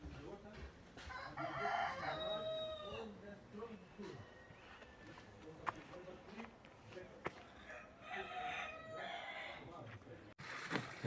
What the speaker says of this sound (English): We have roosters.